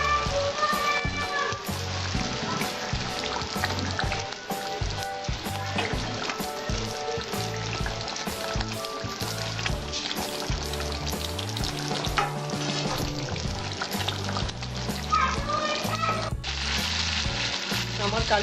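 Katla fish frying in a bubbling kalia gravy gives a loud, steady sizzle with constant crackling spatter and the occasional stir, continuing without pause.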